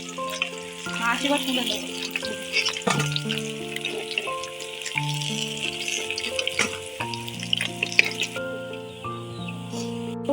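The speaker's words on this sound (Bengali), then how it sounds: "কি সুন্দর মাছ লাল লাল করে ভাজা হয়ে গেছে" Tilapia pieces frying in hot oil in a kadai, with a steady sizzle and crackle running under loud background music, and a voice speaking briefly.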